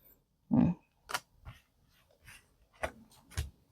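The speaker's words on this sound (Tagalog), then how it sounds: "natatabig ng aso ko yung tripod" A dull knock as a dog bumps a tripod, followed by soft scuffling, pawing and light dog breathing, quiet and close.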